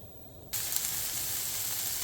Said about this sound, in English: This pan, once the oil is hot, we're going to add the onions and the green peppers to saute those.